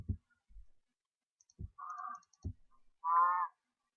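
Blocky Minecraft cows give a few short, low moos with soft clicking game sounds between them, quiet and sparse with no talking.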